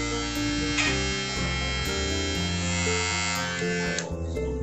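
A Philips HC3505/15 electric hair trimmer runs close by, producing a steady, loud electric buzz with slight shifts in pitch as it is handled, without speech.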